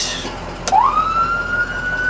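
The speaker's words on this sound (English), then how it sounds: "Alright, so the siren." A siren winds up from a low pitch to a sustained high tone after a brief burst of noise, loud and close.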